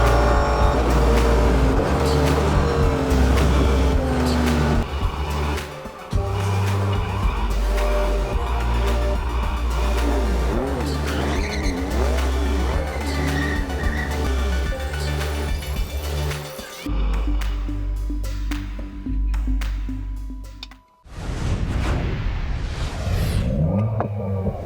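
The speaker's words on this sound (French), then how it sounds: "La voiture est tellement stable dans ce virage à droite, on passe à fond une fois encore" A Renault RS01 race car at Silverstone, driven flat out: a loud, high engine wails and shifts through gears with tyre noise, drops away abruptly near the end, then roars back.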